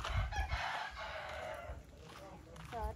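Chickens in battery cages set under banana trees cluck and crow close by in short, overlapping calls over a low background rumble.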